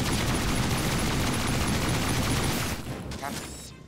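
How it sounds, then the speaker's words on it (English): Rapid automatic Uzi gunfire in a Star Trek video game, a dense, loud, continuous burst that fills most of the clip before tapering off near the end. "I didn't know Star Trek had Uzi guns."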